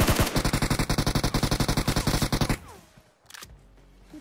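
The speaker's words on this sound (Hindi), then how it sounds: "अब देखो इधर की तरफ से भी आप लोग गन फाइट के साउंड आ रहे हैं" Gunfire rattles in a battle royale video game: a loud, close burst of rapid automatic shots fires in an even stream for about two and a half seconds, then cuts off, leaving quieter scattered game noise.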